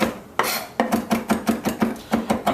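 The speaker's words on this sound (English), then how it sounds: "I'm just chopping up some fresh thyme here." A knife chops fresh thyme finely on a board, a steady run of about a dozen crisp, close taps in quick even rhythm after a couple of slower opening strokes, with no talking.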